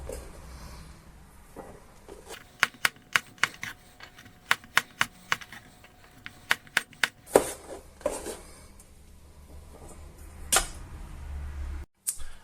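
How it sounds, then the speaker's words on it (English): A knife slices peeled garlic cloves on a cutting board, a series of sharp, crisp taps in quick irregular runs, close and distinct, followed by a few louder knocks and some handling noise. "I've just peeled the garlic and now I'm going to cut it into slices"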